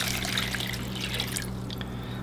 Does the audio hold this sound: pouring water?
yes